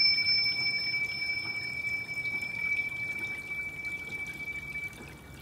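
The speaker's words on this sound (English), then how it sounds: "I do have a little bit, as you can hear, a little bit of water." Water from a small garden water feature trickles softly and continuously throughout, with faint sustained ringing tones above it in a quiet indoor meditation setting.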